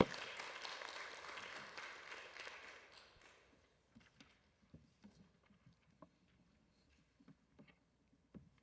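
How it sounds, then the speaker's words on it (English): Applause from the audience at a workshop panel session, a moderate burst of clapping for about three seconds that thins into a few scattered, faint claps in a quiet room. "Let's give them a round of applause"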